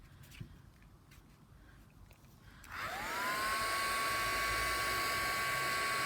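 A heat gun switching on after a few quiet seconds, its motor spinning up with a rising whine and then settling into a loud, steady rush of blown hot air that continues to the end.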